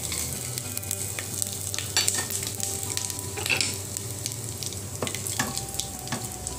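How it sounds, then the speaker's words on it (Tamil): Steady crackling sizzle of spices frying in hot ghee and oil in a pan, close and continuous, with occasional louder pops and no talking. "கடாயை அடுப்பில் வச்சு நெய் எண்ணெயை ஊற்றி சூடு பண்ணியிருக்கேங்க அதில் இந்த தாளிக்கிற பொருட்கள் எல்லாம் நம்ம சேர்க்கணும்"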